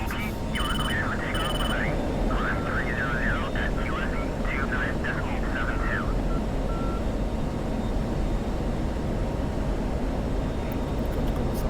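An aircraft engine on a training flight roars with a dense, steady, loud drone that fills the whole stretch, while voices talk over it for the first few seconds and a few short electronic beeps sound early on.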